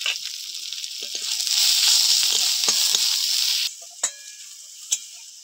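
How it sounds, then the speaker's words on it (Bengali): Chopped onion and garlic sizzle in hot oil in a pan, a steady dense frying hiss that later drops off, followed by a couple of sharp stirring clicks. "পেঁয়াজ রসুনটা ভাজা হয়ে গেছে"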